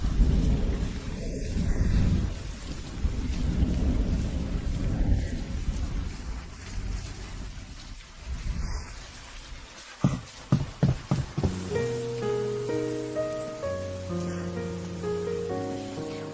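Heavy rain pours steadily in a dense wash, with rumbles of thunder in places, before a gentle melody rises over it in the last seconds.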